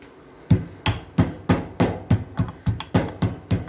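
Black pepper and cumin seeds pounded for South Indian rasam, about eleven loud, close thuds in a steady rhythm roughly three per second, each a sharp knock with a short ringing tail, no voices.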